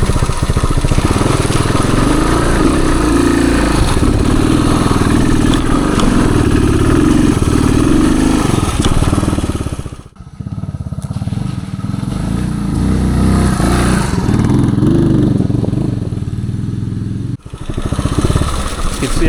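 A 1978 Suzuki DR370 motorcycle chugs up a small woods trail hill in second gear, its low, steady engine loud and close throughout, briefly dipping twice as the throttle eases.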